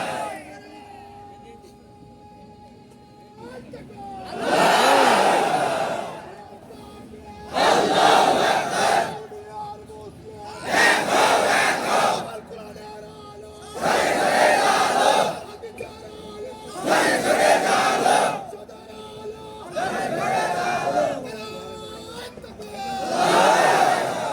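Huge open-air crowd at a religious sermon rally in Palashbari, Bangladesh, roaring the takbir chant Allahu Akbar in repeated loud swelling bursts about every three seconds, with a leader's voice calling between them.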